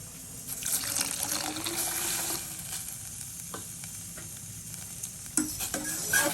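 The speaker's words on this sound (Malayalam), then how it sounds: "നമ്മുടെ പാലിവിടെ തിളയ്ക്കാൻ തുടങ്ങിയിട്ടുണ്ട്" Milk with custard powder heats in a pan while being stirred, giving a continuous bubbling, sizzling hiss with scraping stir sounds and a few louder knocks near the end.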